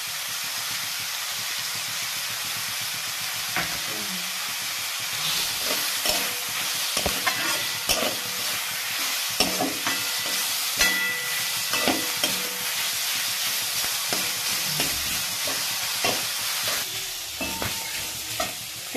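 Chicken roll filling frying in a pan with a light salting, a close hissing sizzle punctuated by repeated spatula scrapes and taps as it is stirred, steady throughout with no voices.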